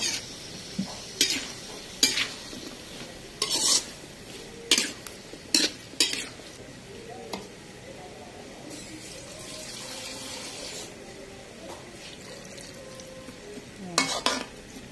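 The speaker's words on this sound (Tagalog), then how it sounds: "Sunod na rin natin yung sayote. Halo-halo lang." A spoon stirs chayote (sayote) frying with sardines in a pan. Sharp scraping clinks come in clusters over a soft steady sizzle, then the pan quiets to a gentle bubbling hiss before a few more clatters near the end.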